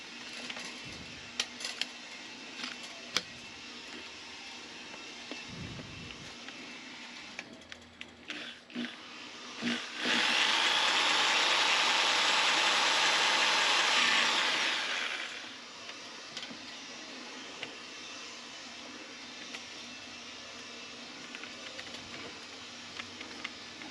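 A power drill whirs loudly for about five seconds, a steady high-pitched grinding bore through plastic, with quiet clicks and handling noises before and after.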